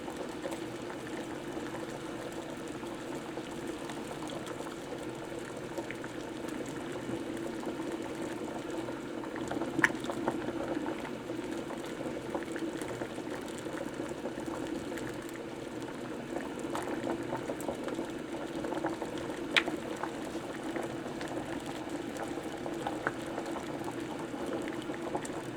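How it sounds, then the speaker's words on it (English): Water boils steadily inside a cheap electric kettle in a crane shop, a continuous bubbling rumble at moderate level with occasional small pops and no talking. "This is just a cheap electric kettle."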